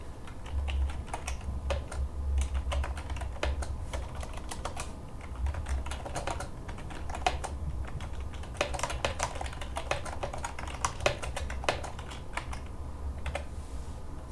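Rapid, uneven clicking of a computer keyboard as call details are typed into an office call log, close and continuous with brief pauses between bursts of keystrokes, no voices.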